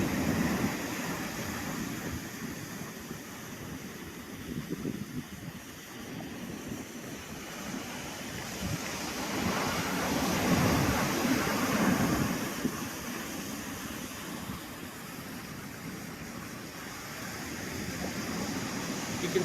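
Ocean waves and surf at a Zodiac landing on the shore of Bouvet Island, a continuous windy wash of breaking water that swells and recedes, fairly faint and steady with no clear talk.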